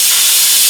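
Steam hisses steadily from the release valve of an Instant Pot pressure cooker, loud and close, a continuous bright rush without pause and with no voices.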